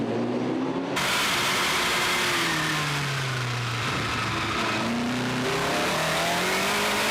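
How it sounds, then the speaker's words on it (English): A car accelerating out of the La Source hairpin at Spa, its engine note climbing through gears in repeated rising sweeps, loud and continuous throughout with no voices. "we turn right at La Source around the hairpin and accelerate down to complete the lap"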